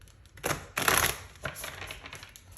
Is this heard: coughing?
no